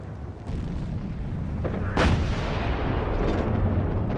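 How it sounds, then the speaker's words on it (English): World War I artillery fire and explosions rumble with a deep, sustained roar, one sharp loud blast standing out midway through the dense, continuous barrage. "Then there was another explosion, and another one."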